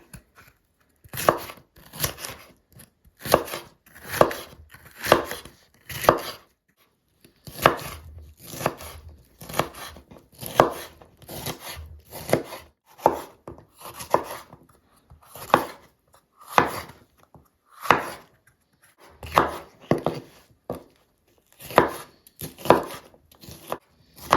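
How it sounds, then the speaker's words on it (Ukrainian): A knife chopping bell pepper into small pieces on a board for borscht, crisp close repeated cuts in uneven bursts and clusters, with brief pauses between runs and no voice. "Далі нарізаємо перець невеличкими шматочками."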